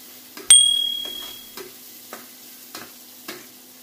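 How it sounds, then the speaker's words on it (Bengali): Onions fry with bay leaves in a kadai as a utensil stirs them. One sharp metallic clink rings out first, followed by slow, regular scraping strokes over a faint, steady sizzle. "দিয়ে কড়াইতে আমি আস্তে আস্তে নাড়ছি"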